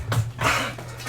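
A pet dog whimpers indoors in a brief, close whine lasting about a second, with a couple of short rising and falling cries and no voices.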